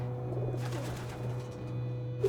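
Pigeons cooing in an aviary where ten to twenty birds are kept, soft low murmuring coos repeating close by against a steady low hum.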